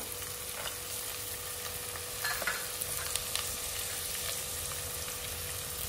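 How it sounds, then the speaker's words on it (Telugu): Garlic sizzles in a hot pan while kichidi is cooked, a soft steady frying hiss with faint stirring scrapes, and no talking. "ఇక ఎల్లిగడ్డ వేసుకుందాం."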